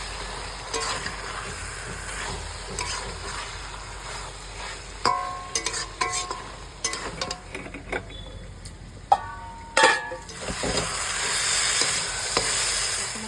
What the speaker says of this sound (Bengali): এবার আবারও কষাতে হবে, ভালো করে আবার কষাতে হবে।